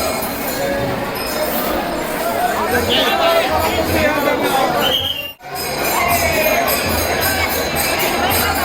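A busy crowd at Shri Swami Samarth temple gives off loud, constant chatter, with a few clinks and children's shouts rising out of the hubbub. A short cut interrupts it midway.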